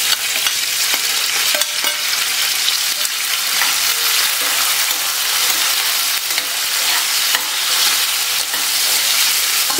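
Cut green grapes frying with kalonji and fennel seeds for an instant sweet pickle, a steady loud sizzle with stirring scrapes running unbroken throughout.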